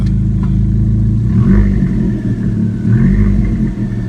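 A 2016 Abarth 595 Competizione's engine rumbles close by and is revved twice, each rev swelling briefly over the steady burbling sports exhaust.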